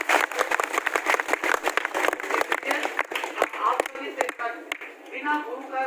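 A live audience claps at a spiritual discourse at Sadguru Kabir Vigyan Ashram, a dense run of sharp hand claps that thins toward the end while a voice talks over it.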